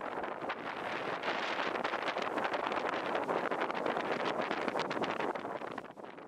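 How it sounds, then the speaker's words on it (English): Wind on a breezy day roars and rustles in a dense continuous wash, buffeting the microphone with fluttering gusts and no voices. "Very windy, breezy day here."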